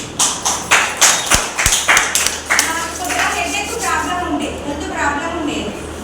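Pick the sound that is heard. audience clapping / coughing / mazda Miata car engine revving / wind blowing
audience clapping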